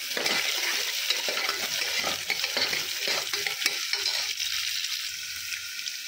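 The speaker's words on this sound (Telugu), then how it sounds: "అవి కొంచెం వేగిన తర్వాత కట్ చేసుకుని ఆనియన్స్ వేసుకున్నాం." Green chillies and sliced onions frying with curry leaves in a pan, a loud steady sizzle with occasional stirring scrapes, close up and without speech.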